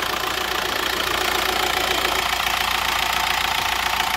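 A 1.9 TDI diesel engine in a VW Transporter T5 idles steadily up close, a constant rattling drone with a faint knocking texture and no voices throughout.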